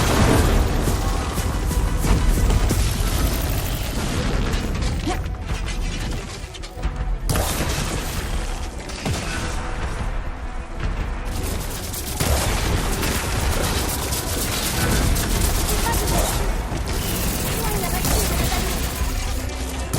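Shooting in the video game Horizon Forbidden West, with dense bursts of impacts and booms running steadily throughout amid game music and effects, loud and continuous.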